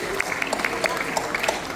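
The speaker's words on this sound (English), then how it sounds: "Let's give a round of applause to Udio." A science festival audience gives a brief round of applause, scattered claps sounding close and moderately loud beneath a speaker's talk.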